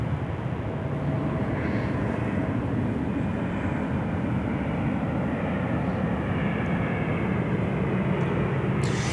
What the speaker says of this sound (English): China Airlines here, A350, going to SeaTac